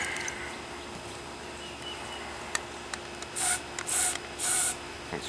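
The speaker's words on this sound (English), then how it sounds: "spray the barrel down" Three short hissing spray bursts of cleaner onto a revolver barrel in quick succession, following a few faint clicks over a steady low hum.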